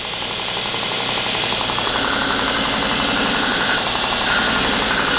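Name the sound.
surface grinding machine running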